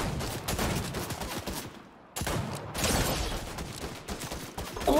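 Rapid bursts of gunfire from a revolver in the video game Fortnite, dense and loud through most of the stretch with a brief lull near the middle, no talking over it.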